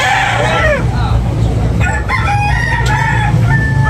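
A White Kelso rooster crows loudly and close by at a busy rooster market in Tabunok, Talisay, Cebu. One long crow rises early on, then clucks and chatter from other fowl and the market fill the rest.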